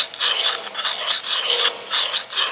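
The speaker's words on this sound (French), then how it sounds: "c'est l'affûteur lui-même que j'avance sur le tranchant de la hache" A Lansky sharpener is drawn in repeated strokes along the edge of an axe blade, giving about five steady rasping scrapes, close and fairly loud, with no talking.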